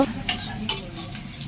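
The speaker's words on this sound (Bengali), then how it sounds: "পেঁয়াজটা একটু ভেজে নিব" Onions frying in hot oil in a kadai give a loud, close sizzle, with two sharp stirring scrapes near the start and more faint stirring later; no one speaks.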